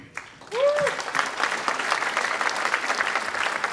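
An audience at a chamber of commerce awards dinner breaks into steady, sustained applause for a Business of the Year award after a short tonal swoop, the clapping continuing evenly throughout.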